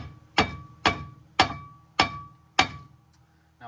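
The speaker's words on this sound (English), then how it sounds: "just take our trusty dusty Walmart hammer and give her a couple taps" Five evenly spaced metallic taps from a hammer striking a car's brake rotor during front suspension work on a Volvo 740/940, each ringing briefly before the next, close and clear with no talk.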